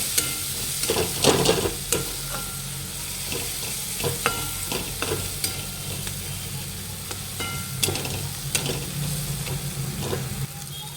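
Turmeric, red chili powder and ground coriander fry in hot oil in a pan for a boiled-egg curry, with a steady loud sizzle and repeated sharp scrapes and clicks of a spoon stirring the spices throughout.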